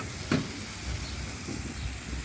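Dried fish and flat beans sizzle loudly in a hot pan, with a brief scrape of stirring near the start over a steady frying hiss.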